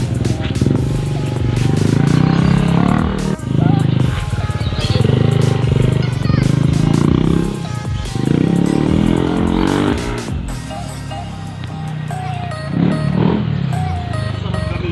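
Yamaha Aerox scooter engine running loud and close in a shop, with a rough, pulsing idle and brief revs, and no talk over it.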